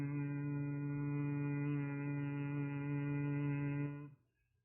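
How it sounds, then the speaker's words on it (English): A steady nasal hum made with closed lips while exhaling through the nostrils during a guided meditation, sustained and even for about four seconds before fading out, heard alone without talk. "making the humming sound."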